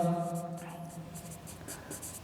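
Chalk or marker scratches across a board during a zoology lecture, brief scraping strokes right after a voice, close and clear.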